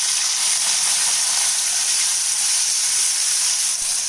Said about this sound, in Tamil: வெங்காயம், பூண்டு, தக்காளி எல்லாத்தையுமே சேர்த்துறேன்.